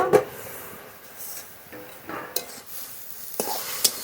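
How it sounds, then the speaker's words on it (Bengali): Greens being stir-fried in a pan in a village kitchen, with a low sizzle under repeated close stirring scrapes and a few sharp knocks of a utensil against the pan, and no speech. "নেড়ে নেড়ে ভেজে নেব শাক"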